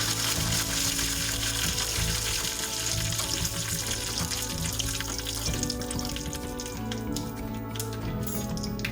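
Black mustard seeds and curry leaves sizzle steadily in hot oil while being stirred for a home-style dahi tadka. The crackling hiss is continuous and fairly close.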